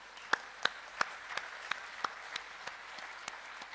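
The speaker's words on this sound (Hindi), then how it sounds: "जोरदार तालियां" Slow, evenly spaced claps, about a dozen crisp individual hand claps at a steady rhythm, fairly quiet against a faint background hush at a spiritual meditation gathering.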